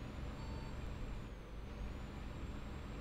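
Truck laboring up a steep climb in Euro Truck Simulator 2, a steady low engine drone with a faint high whine, continuous and moderately loud, no talk.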